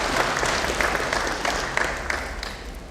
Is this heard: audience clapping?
yes